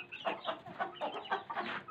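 Hens clucking up close at a backyard nest, several short rhythmic bursts one after another with no talk.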